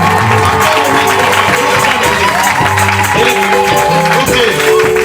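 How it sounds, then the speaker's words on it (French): A congregation claps and cheers at a religious wedding inside the Arche de Noé tabernacle church, and the loud crowd noise blends with music and a voice. "Acclamons très fort le Seigneur."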